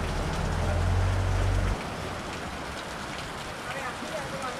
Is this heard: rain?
yes